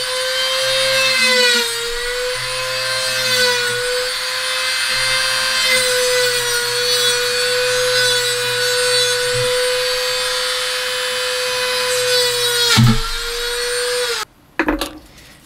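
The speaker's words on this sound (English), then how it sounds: "I use the rotary tool on my Dremel to go ahead and" A Dremel rotary tool cuts through a graphite golf club shaft with a steady, loud high-pitched whine and grinding buzz, dipping briefly near the end before a couple of clunks as it stops.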